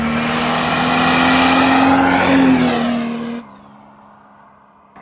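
A Mercedes OM603 turbo diesel car engine, fitted with a large turbo, revs up loud and close with a rising, rough drone, then abruptly drops off to a quieter idle-like rumble before a brief surge at the end.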